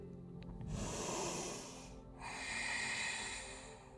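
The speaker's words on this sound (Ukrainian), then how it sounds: "Вдих. І ще вдих." Deep, steady breaths drawn in and let out during a yoga session, close and clear, two long airy inhalations separated by a brief pause, with no talking.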